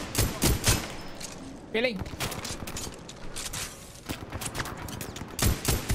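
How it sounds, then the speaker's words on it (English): Gunfire in Titanfall 2: several loud, sharp shots fired in quick clusters near the start and again near the end, with a person speaking briefly in between. "Who is shooting at me?"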